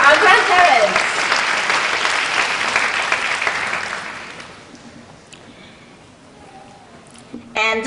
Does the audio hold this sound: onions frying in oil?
no